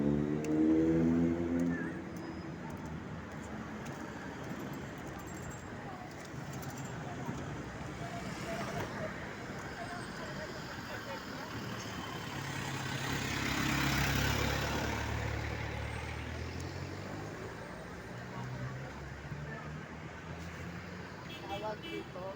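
Vehicles at a bus terminal produce a continuous rumble of idling and moving engines. Traffic noise rises and falls, a swell builds midway, and faint voices murmur underneath.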